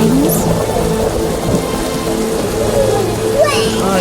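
Steady rain pouring in the Temple Quarter of the video game The Witcher, a constant close hiss with a low rumble beneath, while voices speak briefly over it.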